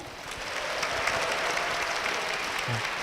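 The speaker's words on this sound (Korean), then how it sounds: "박수로 모시겠습니다" A church congregation gives a guest a sustained, full round of applause. It rises quickly and stays steady, with a short low thump near the end.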